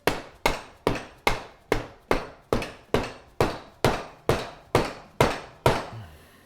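Hammer blows on the exhaust pipe of a 1993 Honda CR250 two-stroke during a rebuild, fifteen sharp, evenly spaced strikes about every half second, each ringing briefly, loud and close with no talk.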